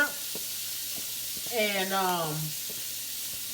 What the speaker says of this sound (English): Let's put in that onion. Y'all know I like that sound right there.